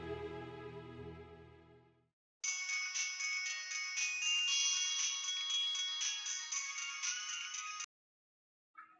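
A phone ringtone plays a bright, steady electronic melody for several seconds before cutting off abruptly, following a brief burst of other sound at the start.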